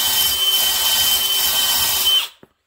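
A brush hone spins inside a Nikasil-plated two-stroke cylinder, giving a steady, loud whirring drill-driven grind for about two seconds before cutting off abruptly, followed by a faint knock.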